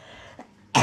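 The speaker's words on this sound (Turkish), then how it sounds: "Bak öksürük var hani." A single sharp cough bursts out near the end, loud and close, after a faint earlier throat sound in a quiet indoor room in a Turkish village home.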